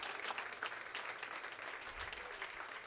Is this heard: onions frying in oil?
no